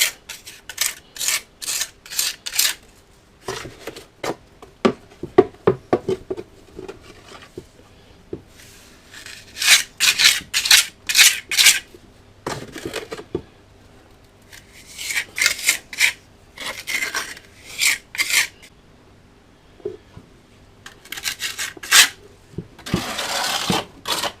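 A bag rubbed over a repaired garage wall to give a bag-rubbed finish, close dry rasping strokes in quick rhythmic bursts separated by short pauses, no talking.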